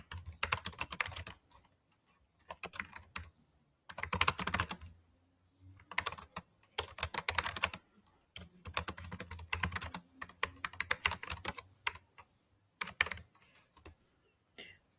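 Keys clatter on a computer keyboard in bursts of rapid typing, broken by short pauses. The sound is close and clear, with no voices.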